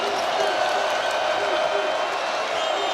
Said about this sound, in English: this partisan Jayhawk crowd in downtown Kansas City making some noise